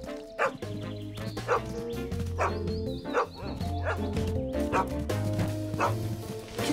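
A cartoon dog in a Bob the Builder episode barks and yips repeatedly in quick bursts, close and loud, over a bouncy music score.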